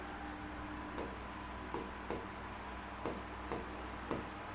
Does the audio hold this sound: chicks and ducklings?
no